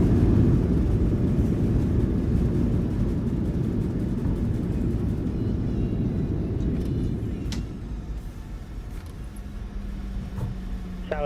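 A PMDG 737-700 airliner takes off in a flight simulator game, its steady broad jet engine roar loud at first and easing slightly toward the end, with a faint higher whine entering near the close.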